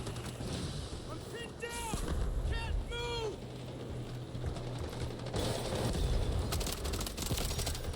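AK-12 assault rifle fire in the shooter Delta Force, sharp bursts of shots amid clattering mechanical sounds and battlefield noise, with a person talking partway through.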